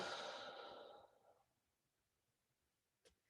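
One long, slow exhale during a breathing exercise, a breathy rush close to the mic that fades away over about a second, followed by quiet and one small click.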